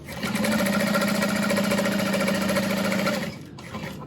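A sewing machine bastes fabric pieces together, running as one loud, steady whirring stitch for about three seconds before stopping, with no talking over it.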